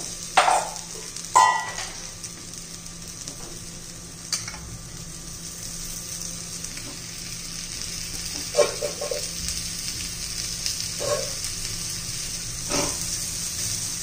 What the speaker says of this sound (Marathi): आता फोडी आपण उलटे करून घेऊया। थोडंसं तेल घालू,